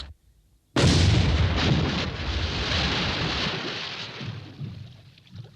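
A 1980s British Army AVRE fires its demolition gun: a sudden, loud, close blast after near silence, followed by a long rumbling roar and debris noise that slowly fades over several seconds.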